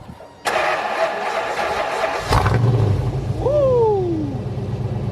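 A 1988 Ford Mustang with a newly installed resonator exhaust cranks briefly and fires up, settling into a deep, steady idle close by, with a short whine and a voice heard near the start.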